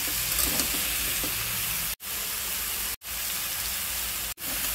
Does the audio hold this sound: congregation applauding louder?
no